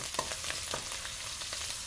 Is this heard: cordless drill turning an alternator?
no